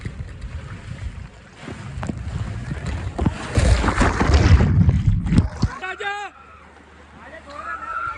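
A water park ride carries riders through rushing, splashing water with gusty wind buffeting the microphone; the surge swells loudest mid-way and then drops off, with voices present throughout.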